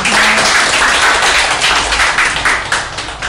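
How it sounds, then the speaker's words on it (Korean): Applause welcoming a lecturer to a talk, a dense and loud burst of audience clapping that holds steady for about three seconds with no talking. "박수로 맞이해주세요"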